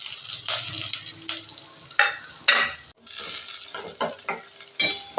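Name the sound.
sautéing onion and green chillies in a pan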